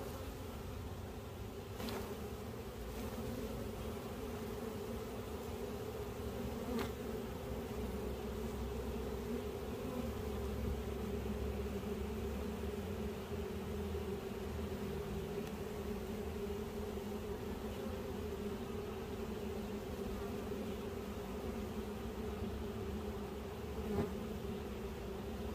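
A honey bee swarm being moved into nuc boxes by bare hand gives a steady, dense, close buzz that holds unbroken throughout, with no voices.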